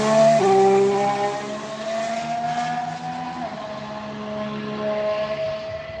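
A Ferrari Formula 1 car driven by Charles Leclerc heads out onto the track, its engine a sustained, high, buzzing whine that drops in pitch at a gear change and carries on steadily, loud and unbroken.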